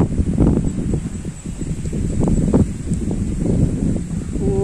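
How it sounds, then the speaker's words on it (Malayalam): Cool wind blows across a hilltop quarry at Thekkamala near Perumbavoor, a loud continuous low rushing buffet against the microphone with faint rustling, no voices. "നല്ല സുഖം, നല്ല തണുത്ത കാറ്റ്."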